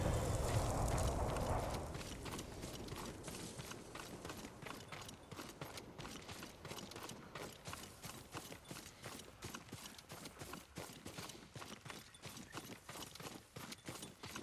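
A horse gallops in the video game Ghost of Tsushima, with steady, rapid clip-clop hoofbeats running throughout after a louder rumbling opening and no talk.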